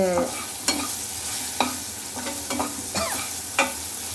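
Crab curry sizzles in a pan while a spoon stirs and scrapes it in quick repeated strokes, close and steady, with no speech.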